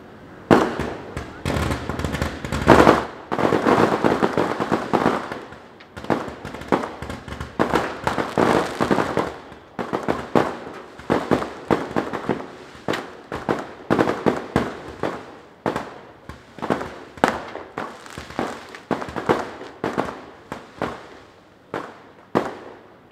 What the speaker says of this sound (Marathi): माझा नेमका वेळ ह्या फटाक्यांमध्येच जातो जास्ती